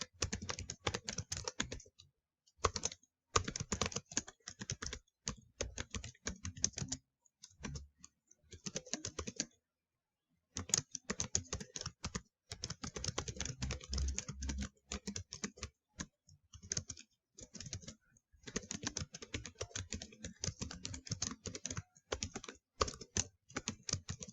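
Typing on a computer keyboard in quick bursts of key clicks, separated by short pauses, close and fairly quiet with no talking.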